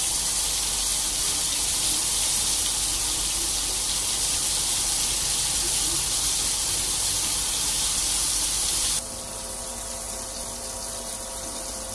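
Bombil (Bombay duck fish) frying in a pan gives a loud, steady hiss and sizzle that runs unbroken, then drops slightly quieter near the end.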